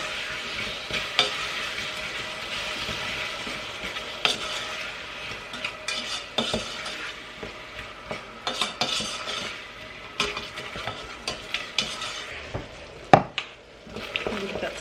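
Apples cook in a pan on the stove while a utensil stirs them, giving a soft continuous sizzle broken by frequent light scrapes and clinks against the pan, one sharper knock near the end.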